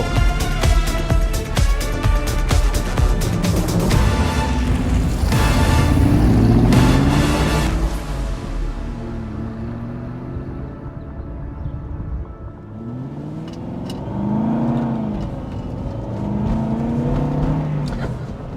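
An Aston Martin pulls away and accelerates hard, its engine note rising loud and close for several seconds before dropping and settling into a steadier drive.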